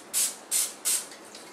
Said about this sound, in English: I'm gonna do a light coat of cooking spray.